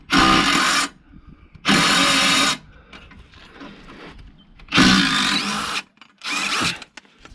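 A power tool whizzes bolts off a 2007 VW Beetle in four loud, separate bursts of whirring, with quieter clicks and handling noise in the pauses between.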